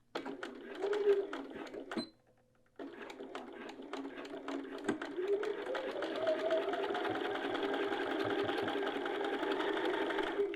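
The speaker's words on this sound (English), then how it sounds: "I have my edge stitching foot on and then I'm just going to sew across the seam line here" Sewing machine fitted with an edge stitching foot sewing a hem, rapid rhythmic stitching ticks that pause briefly then resume into a steady sustained whir, close and moderately quiet.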